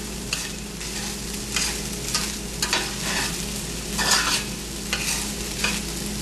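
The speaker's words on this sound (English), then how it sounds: "Hear that sizzling?" Steady, crackling sizzle of fried rice in a hot pan, with louder bursts as the rice is stirred and tossed.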